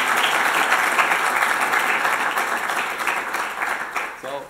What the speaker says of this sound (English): so let's clap for Thilo.